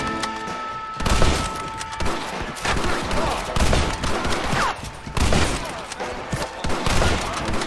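Gunfire during a bank robbery in Red Dead Redemption, bursts of rapid shots and booming reports in quick succession, loud and continuous across the scene.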